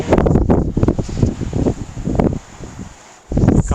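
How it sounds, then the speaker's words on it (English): Strong gusts of monsoon rainstorm outflow wind in Arizona buffet the microphone in loud, rumbling bursts, easing briefly into a quieter lull before roaring back. "all these outflow winds from the rainstorm that's to the east of me"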